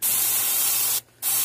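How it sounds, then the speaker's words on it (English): An airbrush sprays paint in a threadfin shad pattern onto a fishing lure, a loud, steady close-up hiss that cuts out briefly and then resumes. "just spray it right through there."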